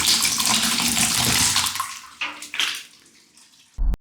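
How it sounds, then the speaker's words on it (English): Water splashes and pours as tofu pudding drains through a cheesecloth-lined basket. A strong rushing trickle eases into softer irregular splashes, then a brief sharp thud near the end. "Most of the water will drain out, leaving the solid tofu behind."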